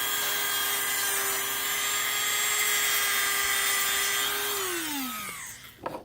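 Power tool grinding a catfish jugging noodle, a steady high whining drone held for several seconds before winding down in pitch, ending with a brief clatter.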